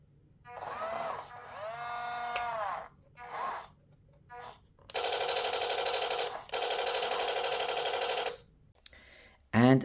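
Torro toy halftrack tank firing its electronic cannon sound effect, several short whooshing and rattling bursts followed by two long buzzing, machine-gun-like blasts, loud and close with no talk.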